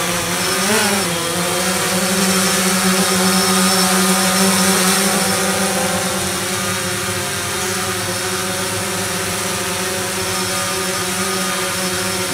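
A DJI Phantom 3 Pro drone lifts off and hovers with a steady, close, high-pitched propeller whine and a constant buzzing drone. Its tone wavers slightly at first and then holds even throughout.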